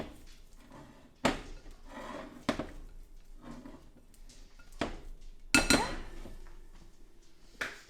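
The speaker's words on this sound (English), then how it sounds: "use your spatula, and you're just going to scrape it again" A spatula scrapes sticky no-knead artisan bread dough around a bowl, soft intermittent scraping broken by several sharp knocks and clinks of the utensil against the bowl, close and quiet, no talking.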